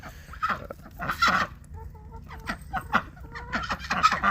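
Americana hens in a barnyard coop, clucking repeatedly at close range with bursts of varied calls and short pauses between, no talking over them.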